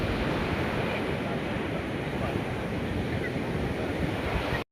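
Ocean surf at a beach where people have come to bathe: a continuous broadband roar of breaking waves mixed with wind buffeting the microphone, steady and fairly loud, cutting off abruptly at the end.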